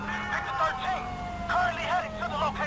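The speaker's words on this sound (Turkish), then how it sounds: "Sağa çek. Sağa çek. Ambulans. Ambulans." A wailing ambulance siren in GTA 5 rises and falls behind someone speaking in Turkish, with a low engine rumble underneath.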